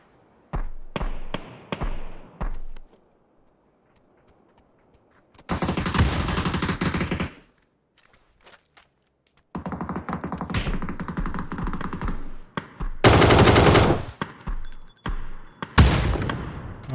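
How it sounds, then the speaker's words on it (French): Bursts of gunfire in the battle royale game PUBG, covering shots fired in several rapid volleys separated by short silences, loud and close with sharp cracks between sustained automatic strings. "Là, c'est des tirs protecteurs,"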